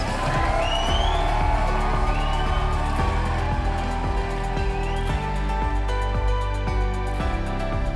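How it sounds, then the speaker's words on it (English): Cheering and whooping from wedding guests for the newlyweds at Black Gold Golf Club in Yorba Linda, a loud sustained crowd roar mixed with music and voices. "give a huge round of applause for the newlyweds, Austin and Heather Lewis"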